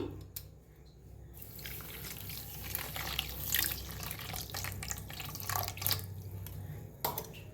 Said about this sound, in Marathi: त्याच्यात वतूया पाणी